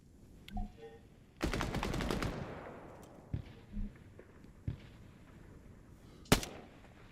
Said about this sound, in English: I just heard mortars.